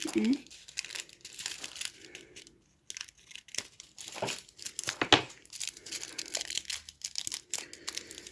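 Scissors cut plastic packaging for diamond painting supplies: crinkling and tearing with occasional sharp snips, close by, while a person talks intermittently in French.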